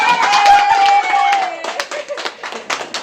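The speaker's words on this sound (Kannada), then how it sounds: "ದಯವಿಟ್ಟು ಚಪ್ಪಾಳೆ ತಟ್ಟಬೇಕು ಎಲ್ಲರೂ" Family members clap at a New Year's Eve party at home, a scattering of sharp irregular hand claps under a sustained high tone and chatter, becoming sparser and more uneven toward the end.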